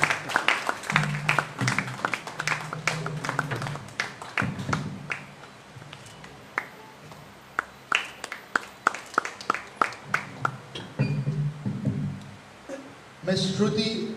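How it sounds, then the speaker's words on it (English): Interns at a felicitation ceremony for COVID-19 warriors clap for each other in scattered, irregular bursts. The claps are uneven and fairly close, with murmured voices and room noise between them. "all you interns need to clap for each other and make it sound loud"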